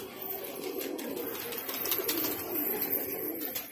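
Pigeons coo in low, soft, repeated phrases at moderate distance as a bird lands at the end of a flight, with a faint flutter possible amid outdoor rooftop ambience.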